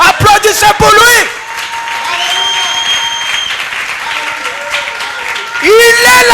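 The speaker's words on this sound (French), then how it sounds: "Applaudissez pour lui." A church congregation applauds in a loud, steady wave of clapping, framed by a preacher's amplified voice speaking before and after.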